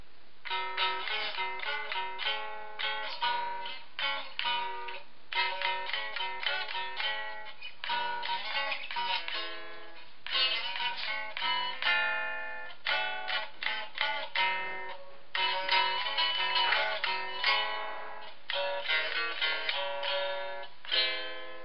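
Strummed chords on a three-string cigar box guitar, played in short rhythmic bursts with brief pauses between phrases, close and clear, with no voices.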